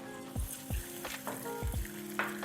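Butter hitting hot caramel in a pan on very low heat sizzles in a few sharp bursts, with utensil clatter and background hum between them, no one speaking.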